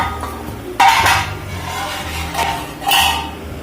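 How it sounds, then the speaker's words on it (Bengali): Frying fish in a pan is turned over in a Bengali kitchen, giving a few sharp metallic scrapes and clinks of a spatula against the pan over a low background hum. "একদিকটা হয়ে গেছে এবার ওই পাশটা উল্টিয়ে দেবো"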